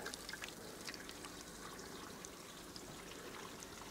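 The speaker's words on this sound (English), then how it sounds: "let's drain some water out now and see how it looks" Water drains from an old basin with a steady, faint trickling and pouring rush that runs continuously throughout, with no voices.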